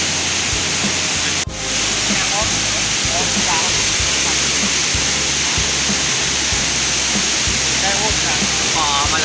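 Waterfall at Tad Xuang near Ban Tham, Naxaithong District, Vientiane, roaring as a loud steady broadband rush of falling water throughout, with voices murmuring faintly beneath it.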